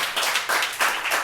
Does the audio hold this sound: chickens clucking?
no